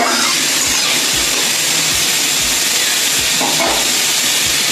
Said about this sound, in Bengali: তেলটা গরম হয়ে গেছে। তার মধ্যে শুকনো লঙ্কা আর কালো জিরে ফোড়ন দিয়েছি।